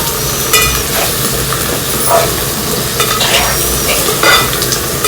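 Chicken frying in a pan and being stirred, with loud steady sizzling and repeated scraping strokes of a utensil close by, no talking.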